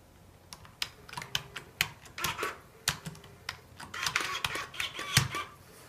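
Keys clatter on a QWERTY keyboard plugged into a 6-dot Braille labeler, irregular quick taps and clicks in bursts, fairly close and moderately soft.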